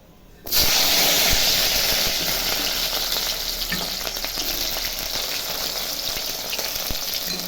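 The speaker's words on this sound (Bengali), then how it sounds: "এখন মুখিগুলা ভাজি নেব কড়াই তেল দিয়ে দিচ্ছি গরম হয়েছে" Taro stolons drop into hot oil in a kadai and burst into a loud, sudden sizzle that settles into a steady, crackling fry close by. No one speaks.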